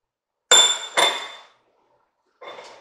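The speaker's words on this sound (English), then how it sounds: "So we're gonna give this a good mix" Two sharp metallic clinks close together, then a softer scrape a moment later, as a spoon knocks and stirs through a pot of chili colorado with minced garlic and bay leaves; no voices.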